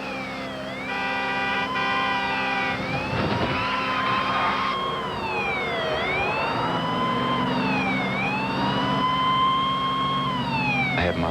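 A police car siren wails during a pursuit on the I-95 highway, loud and close, switching between rapid yelp cycles and slower rising-falling wails over engine and road rumble.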